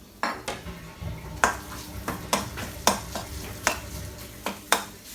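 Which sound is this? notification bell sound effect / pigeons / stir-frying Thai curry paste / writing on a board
stir-frying Thai curry paste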